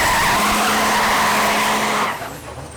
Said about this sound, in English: So my next pass, I go up, much better burnout, no trans slippage.